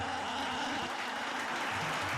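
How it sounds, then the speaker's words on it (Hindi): Audience applause at a televised competition on DD Urdu, honouring a first-place winner: a dense, even wash of clapping that holds steady throughout without any voices. "ज़ीशान खान के लिए जोरदार तालियां।"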